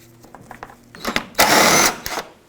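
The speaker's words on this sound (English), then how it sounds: "behind it you'll see a 12mm bolt. Go ahead and remove this bolt." A 12mm headlight bolt being removed on a 2001-2007 Volvo V70 with a ratchet: a few soft clicks, then a loud, close burst of rapid tool whirring for about half a second, followed by brief clicks.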